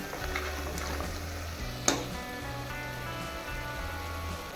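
Mutton pieces coated in chili powder cook in hot oil for mutton paya, with a steady low sizzle and frying crackle throughout, one brief sharp clink near the middle, no voices.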